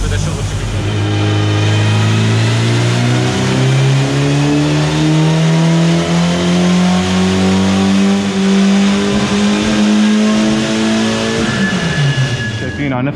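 A speed-test race car engine held at high revs, a loud, steady, close drone with rising harmonics across the whole stretch, then cutting off abruptly at the end.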